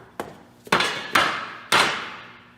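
A cheap, bendable steel barbecue tube takes repeated heavy impacts as someone jumps on it, giving three or four sharp, loud metallic thuds with short ringing decays, close by and without talk.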